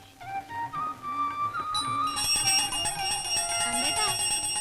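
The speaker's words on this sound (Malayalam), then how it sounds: "ദേവി ഒരുപാട് മണിയടിക്കണ്ട, സമയം എത്രയായിന്നറിയോ?" A temple bell rings repeatedly at a shrine of the goddess Mookambika, its bright, sustained tones layering over each other in the second half while people talk.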